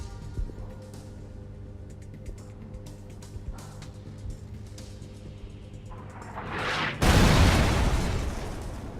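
A destroyed building explosion in PUBG on a game map: a muffled rumble swells, then a loud broad blast erupts and roars for the last couple of seconds over steady ambient game noise.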